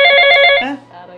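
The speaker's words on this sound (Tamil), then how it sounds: "யாரோ ஃபோன் பண்ணுறாங்களே" A telephone bell rings loudly in a home, a bright repeating trill lasting about half a second before cutting off into a quiet room.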